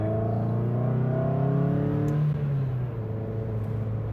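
A Mazda NB Miata drives along with a steady close engine hum heard from inside the cabin, the revs easing down partway through.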